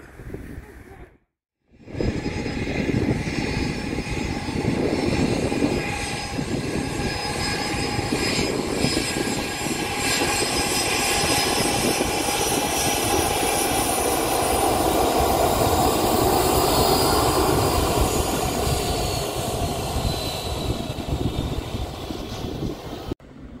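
An airplane's jet engine roars loudly and steadily for over twenty seconds during takeoff after a brief silence, with a high whine riding over the deep rumble.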